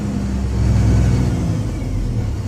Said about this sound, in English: you have to rev up to 1200 to 1400